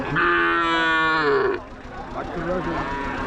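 A female calf at the Muthunayakkanpatti cattle market near Salem lets out a loud, long, close moo with a falling pitch. Quieter market murmur and a softer lowing call follow.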